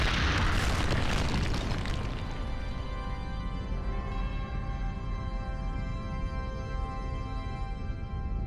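A statue is destroyed in Shadow of the Colossus: a loud crashing boom at the start breaks into a rumbling collapse that slowly fades into a long, deep resonant drone, with no talk.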